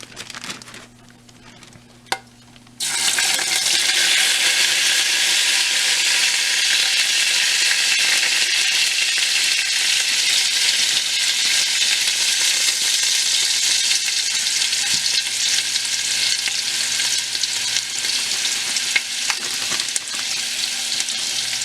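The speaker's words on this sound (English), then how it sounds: "It's pretty much quarter of our onion that we grind up, and we're gonna go ahead and add this now" Ground onion is dropped into a hot pan, where a quiet lead-in gives way to a sudden loud, steady sizzle that fills the rest of the stretch, close up and continuous with no talk.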